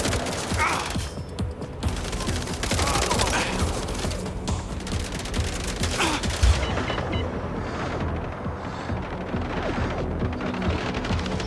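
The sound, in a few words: gunfire in the video game MindsEye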